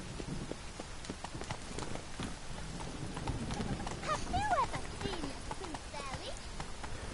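Hooves of the horse Roach from the video game The Witcher III: Blood and Wine clip-clop steadily in a quick galloping rhythm, with a brief whinny and light ambient patter, under a talking voice.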